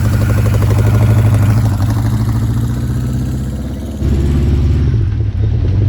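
A Honda CB550 K3 classic motorcycle with original exhaust pipes rumbles steadily up close, its engine note dipping briefly before a sharper, louder pull just after the midpoint as the bike accelerates away.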